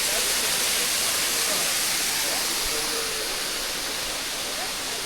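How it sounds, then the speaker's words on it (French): Waterfalls along a Vosges mountain trail give a loud, close, unbroken rushing roar of falling water, steady throughout with faint voices beneath. "Regardez les copains, les cascades qu'on trouve."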